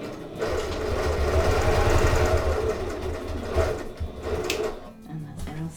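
A sewing machine doing free-motion quilting with a ruler, a continuous close mechanical whir of rapid stitching that slows briefly, with no talk.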